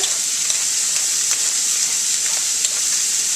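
Vegetables fry in a pan over medium-low heat, giving a steady, close sizzling hiss with occasional small pops and crackles and no talking.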